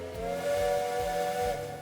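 A steam locomotive whistle blows in the railway management game Railway Empire, set in Great Britain and Ireland. It is a sustained, steady, hissing whistle that holds for nearly two seconds, with no talking over it.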